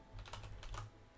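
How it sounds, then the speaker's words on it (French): Fingers tap a computer keyboard in a quick, faint burst of keystrokes, two short clusters of clicks close by in a quiet room, with no talking. "Je sais pas comment les gens font pour écrire vite au clavier"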